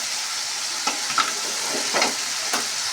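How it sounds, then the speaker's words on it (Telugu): Dried fish sizzles steadily while deep frying in oil, a constant close hiss with a few soft stirring clicks over it. "కొద్దిసేపు ఆయిల్లో డీప్ ఫ్రై చేసుకోవాలి"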